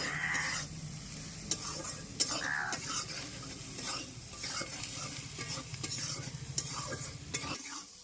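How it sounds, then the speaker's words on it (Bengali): Spices for chicken masala are stir-fried in a pan, with a quiet, continuous sizzle under repeated scraping of a spatula and sharp metallic clinks against the pot. "ভালো করে কষিয়ে নেবো এবার মশলাগুলো"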